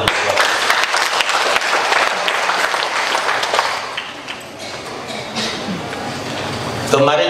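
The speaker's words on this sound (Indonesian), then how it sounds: "Kita tepuk tangan dulu." Sustained loud applause from an audience at a credit union (Kopdit Pintu Air) meeting, a dense wash of clapping running steadily for several seconds before thinning slightly near the end.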